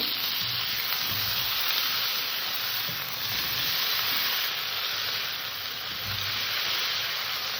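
Ginger paste and spices sizzle in a pan with salt, turmeric and a chopped small tomato, a steady, dense hiss of frying that runs unbroken throughout, with faint stirring scrapes underneath.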